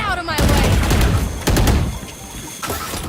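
Loud, close bursts of rapid gunfire in a first-person shooter video game, several overlapping volleys cracking in quick succession over about three seconds.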